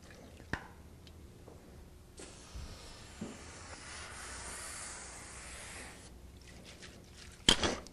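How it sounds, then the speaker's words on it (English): Grease sprays from an aerosol can into a garage door track in one long steady hiss of about four seconds, with a few faint clicks and knocks before it and a sharp clatter near the end. "Then we'll finish putting a little bit of grease inside the track here."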